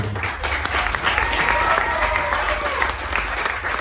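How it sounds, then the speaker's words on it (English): Audience at a seminar camp event bursts into applause, a dense stretch of close clapping from a crowd that holds steady for a few seconds. "One more time, clap for him."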